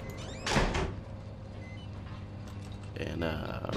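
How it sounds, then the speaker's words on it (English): A door in the game Outlast is pushed shut with a loud sliding, scraping thud early on, followed by a second rattling movement near the end, with a voice talking in between. "Let's actually close this door."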